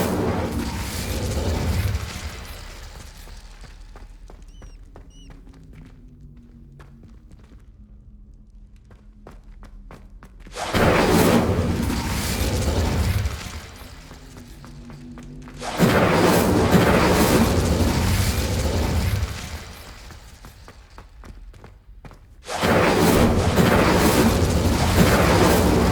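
Incendio fire spell in Hogwarts Legacy, cast as loud whooshing fiery bursts that erupt in three separate blasts, each lasting several seconds, with quieter rumbling gaps between them.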